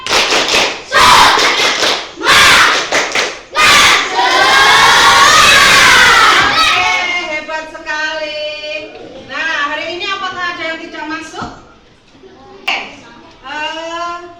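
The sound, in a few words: schoolchildren doing a spirit clapping chant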